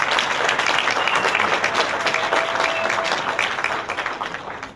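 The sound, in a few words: congregation applause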